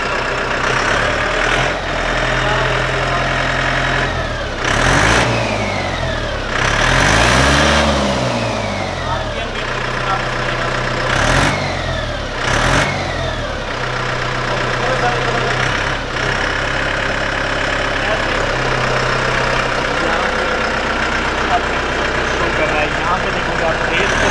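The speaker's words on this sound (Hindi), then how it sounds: "ट्रैक्टर की जो आवाज़ है ना" A tractor engine rumbles steadily nearby, with several swells in revs rising and falling, while a person talks over it.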